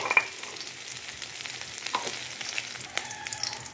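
Black cumin seeds, crushed garlic and slit chilies frying in mustard oil give a steady close sizzle with occasional sharp pops and a few stirring clicks, no talking.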